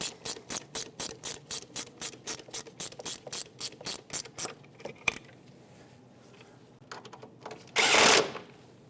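A hand ratchet clicks in a fast, even series of about twenty close, crisp strokes while snugging the engine torque strut mount bolts on a 1992-1996 Toyota Camry 3.0L V6, followed by quieter handling and a short rustle.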